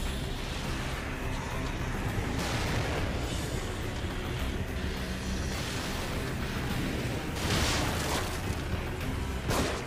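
A rocket launcher firing in The Evil Within, with dense, loud explosive rumbling and roaring blasts that run continuously for about ten seconds and bring several brighter bursts of impact.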